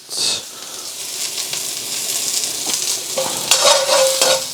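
Garlic frying in a hot pan for king prawn fried rice, a loud bright sizzle with spatula stirring and scraping, swelling into a fresh burst of crackle toward the end.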